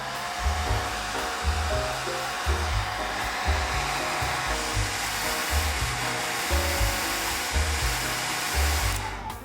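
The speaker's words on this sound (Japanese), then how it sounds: "これくらいになったらドライヤーで乾かします。" A hair dryer blows close by, drying a watercolor pencil painting of the moon and sea, with a steady loud whoosh over a throbbing low hum that keeps going until it cuts off at the very end.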